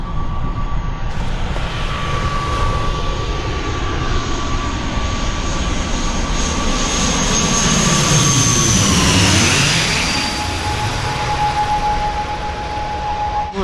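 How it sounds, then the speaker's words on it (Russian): An AirAsia jet airliner takes off near Phuket, a loud sustained engine roar with a high whine that builds, sweeps past close by and then falls in pitch, with no talk. "Ну, сейчас на взлет идет AirAsia."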